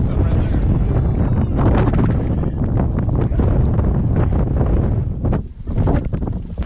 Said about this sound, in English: A little gust comes through.